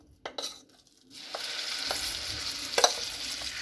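A ground paste being sautéed in ghee for soyyan, with a couple of sharp spoon knocks, then a steady close sizzle and occasional stirring taps.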